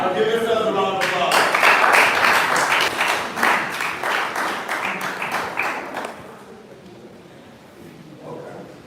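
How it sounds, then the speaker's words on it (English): Crowd of students at a school outreach event applauding, loud dense clapping that builds quickly, holds for several seconds, then fades out into quieter room noise. "give yourselves a round of applause"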